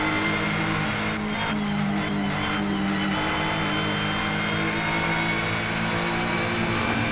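A McLaren 650S GT3 race car engine at Watkins Glen in a sportscar racing video game, droning steadily and loudly throughout with sustained harmonic tones, brief shifts in pitch and rough bursts early on.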